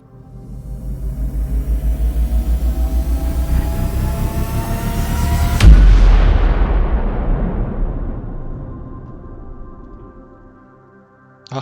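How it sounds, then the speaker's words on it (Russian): A huge weapon fires in the video game Space Engineers: a long, loud rumbling roar builds, then a heavy boom cracks out and a deep rolling rumble slowly fades away. "Возвращаемся к нашему огромному оружию и делаем из него выстрел."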